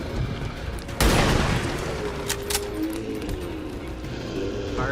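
A loud burst of gunfire from a tactical squad shootout in XCOM 2, one sharp shot followed by a decaying crackle and a couple of brief later cracks over steady background noise.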